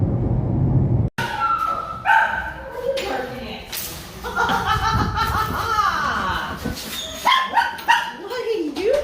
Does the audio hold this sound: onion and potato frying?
no